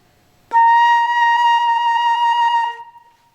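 A woodwind sounds a sustained tone with timbral trills between fingerings, a clear steady pitch whose color flickers rapidly for about two seconds before fading, close and solo.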